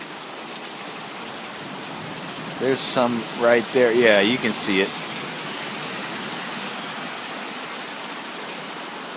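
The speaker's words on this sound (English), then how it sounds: "it's raining pretty hard" Heavy rain falls off a country house in a storm, a steady close hiss throughout, with a short stretch of people talking over it partway through.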